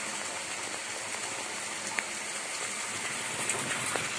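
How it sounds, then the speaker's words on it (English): Steady rain falls on a garden during a strong downpour, a dense hiss with scattered faint drop taps, no voices. "Enjoy the rain."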